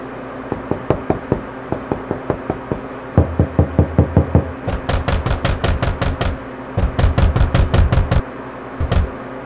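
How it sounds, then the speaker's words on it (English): Knocking on a door in bursts of sharp raps, first spaced single knocks, then rapid heavy pounding in fast runs with short pauses, close and loud with no voices. "Knocking on somebody else's door."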